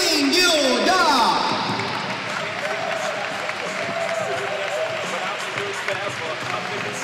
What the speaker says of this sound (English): Ladies and gentlemen, please, a big applause to the winner, King Kyungah.